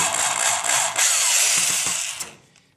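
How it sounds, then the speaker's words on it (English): A power driver whirs steadily as it backs out a stubborn screw on an LG convection oven during bake element replacement, running loud for about two seconds before winding down. "to undo these 2 screws here"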